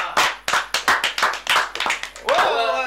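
A small crowd claps in a quick, uneven rhythm of sharp hand claps, loud and close, near the end giving way to a rising whistle-like cheer.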